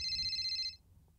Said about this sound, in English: Can you please answer my phone?